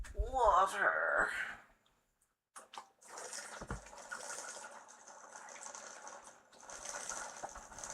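Water is poured into a glass and then sipped at close range, with a faint liquid trickle followed by quiet sipping and swallowing noises.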